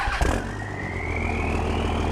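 Engine of a swapped old tow truck runs steadily, a low rumbling idle with a rising whine as revs climb slightly, loud and close after a brief knock at the start.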